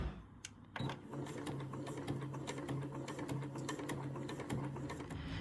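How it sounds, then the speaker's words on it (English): A home sewing machine edge-stitching a fabric daypack runs in a steady, close rhythmic whir with fast needle ticks throughout, no voice heard. "Just doing some more edge stitching here."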